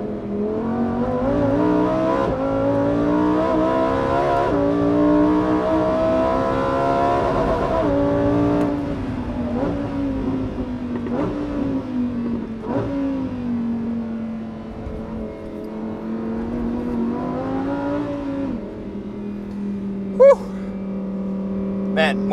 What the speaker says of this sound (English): letting you guys listen to this thing at full noise